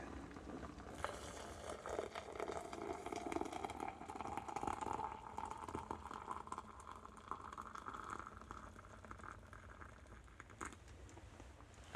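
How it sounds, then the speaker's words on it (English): Boiling water poured into coffee in a café, a steady continuous splashing pour lasting several seconds, fairly close and alone with no talking. "now I'm just going to go and get some boiling water and then pour it in here"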